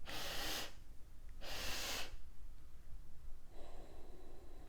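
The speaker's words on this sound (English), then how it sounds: "Elongating the exhale, slowing down slower than you want." Two long, airy breaths of a slow breathing exercise, each lasting over half a second, followed by a quieter, longer drawn-out exhale, close and soft with no talking.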